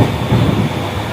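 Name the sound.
train riding along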